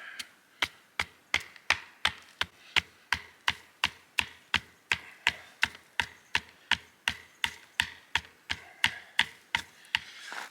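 A stone age adze chops through wood knots and old branch spots while shaping a primitive bow, giving about twenty-five sharp, even knocks in a steady rhythm, close and distinct with no talk.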